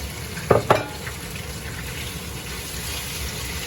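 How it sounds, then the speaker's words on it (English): Beef browning in a hot pan with garlic and onion for Thai drunken noodles, a steady close sizzle and fry with a couple of sharp stirring clatters near the start. "we're going to add in the beef protein. Get that nice and browned up."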